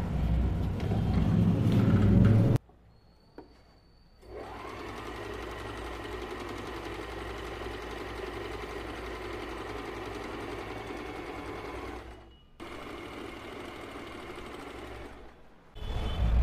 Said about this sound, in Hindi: देखिए अब हम सिलाई स्टार्ट कर रहे हैं।